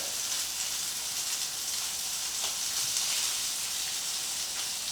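Fresh chopped garlic and rosemary sizzling in a hot pan, a steady, even hiss of frying that carries on without pause, close and moderately loud.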